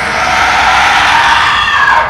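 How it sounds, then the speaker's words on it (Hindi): Women screaming in fright inside a ruined jinn-haunted building, one loud, sustained, shrill scream filling the whole moment without a break. "हमारी चीखें निकल गई।"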